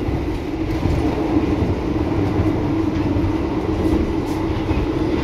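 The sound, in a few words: interior of moving Lodaya train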